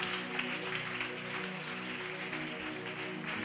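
A church congregation at a proclamation service applauds and cheers the Lord Jesus Christ, steady sustained clapping with a crowd murmur and a faint tonal hum beneath it.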